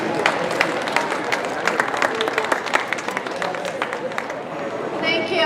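An audience at a school event bursts into warm applause to welcome a presenter, dense steady clapping from a crowd with scattered louder claps and a little murmuring, fading slightly toward the end.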